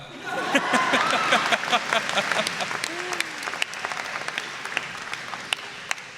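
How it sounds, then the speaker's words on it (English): Applause breaks out from an audience during a student speaker's award address, loud at first with a few chuckles mixed in, then thinning into scattered individual claps toward the end. "Yeah, go ahead, clap."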